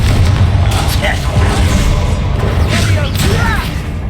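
A Confringo spell from Hogwarts Legacy bursts as a loud, continuous fiery explosion with booming low rumble and whooshing crackle, heavy and close throughout, with game voices and effects layered over it.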